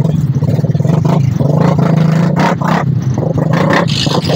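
Busy street traffic in Medina town, Misamis Oriental, near the public market: vehicle engines rumble and rev close by, with clattering and scraping throughout and no clear pauses.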